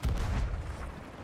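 A ship's cannon in a pirate video game fires a single heavy, close boom with a low rumbling tail lasting about a second.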